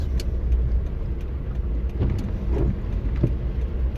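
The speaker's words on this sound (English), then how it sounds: "It's splashing from the cars here" Cars drive along a wet road after snow, tyres hissing and splashing through water over a steady engine rumble, with vehicles passing close by in a continuous wash of road noise.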